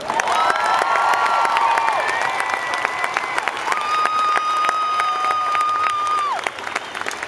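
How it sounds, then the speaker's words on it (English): A large Trans-Siberian Orchestra concert crowd at Sleep Train Arena, Sacramento, applauds continuously, with cheers and long sustained whoops rising over the clapping. "Another round of applause for a group of men and women"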